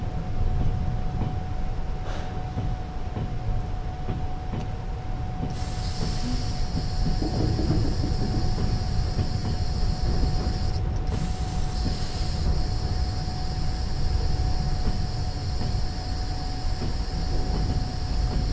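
Train slowing under the brakes in Trans-Siberian Railway Simulator: a steady rumbling roll of wheels with a constant tone, broken by bursts of high squealing brake hiss, moderately loud and continuous, no voices.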